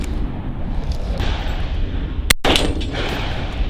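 A single sharp, loud shot from a Wilson Combat 300 HAM'R rifle cracks out over outdoor background noise, with a brief echoing tail.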